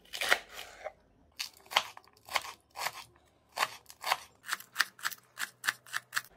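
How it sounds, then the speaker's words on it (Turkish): Peppers being chopped with a knife for a Turkish eggplant menemen, crisp close cutting strokes in uneven bursts that quicken toward the end, no voices. "Biber doğrayalım."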